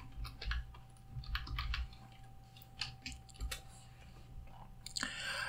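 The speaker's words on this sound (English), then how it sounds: "I need to either click to caps lock or hold the shift while typing my name" Typing on a computer keyboard produces faint, irregular clicks and key taps in short flurries, quiet and close, over a low background hum.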